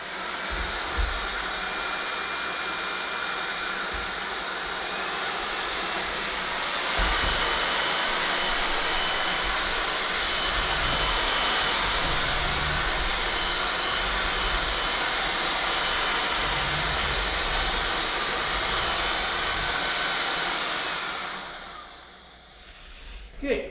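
An LG CordZero A9 cordless vacuum cleaner fitted with its standard floor tool runs steadily and loudly, a constant broad whooshing roar with a slight lift partway through, cutting off near the end.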